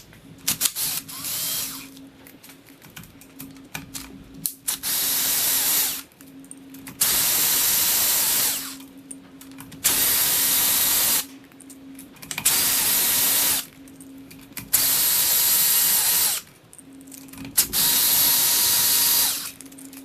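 Cam cap bolts on a 2021 Kawasaki KX250F dirt bike are backed out with a power tool: repeated bursts of high whirring, each lasting a second or two, separated by short gaps and ratcheting clicks, close by.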